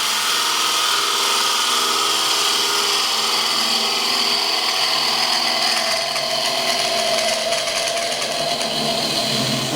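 A wood lathe spins a green timber bowl while a bowl gouge makes a final careful cut, producing a steady, loud whirring hum with a continuous scraping hiss throughout.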